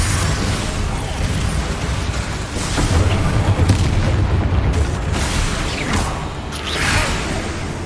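The Confringo fire spell in Hogwarts Legacy, heard as a series of booming, whooshing fiery blasts and bursts that rumble through dense combat noise.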